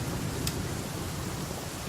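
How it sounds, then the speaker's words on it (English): Steady rain with rumbling thunder in The Flame in the Flood, a dense continuous hiss over a low rolling rumble, broad and enveloping with no voices. "standing around in the rain."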